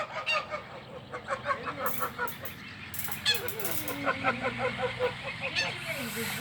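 Geese honk repeatedly in a noisy flock, harsh overlapping calls rising and falling close by, with a person's voice breaking in now and then.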